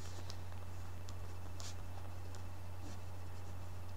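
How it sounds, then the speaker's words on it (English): Pen scratching steadily across paper while a colored marker writes out a name, faint short strokes over a constant low electrical hum. "I'm gonna write her name with whatever color this is"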